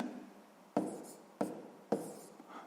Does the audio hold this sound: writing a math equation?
yes